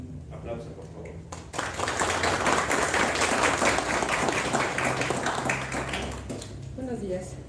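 Audience at a medical conference applauds a presenter being introduced; a voice speaks briefly, then a burst of steady, fairly loud clapping runs for several seconds before fading as speech resumes.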